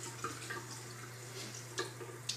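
Tap water runs steadily while a shaving item is soaked under it at a sink, with a few brief drips and splashes standing out over the low, continuous flow.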